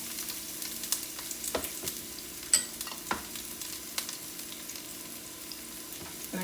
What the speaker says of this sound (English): Then we are going to add some onions.